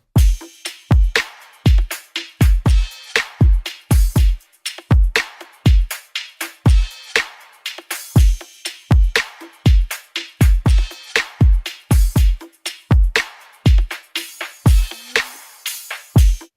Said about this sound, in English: The drums in this record sound like this